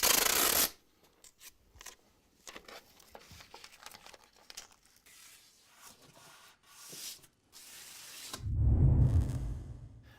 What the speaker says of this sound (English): Then using your masking tape, mask up the edges where it meets the plasterboard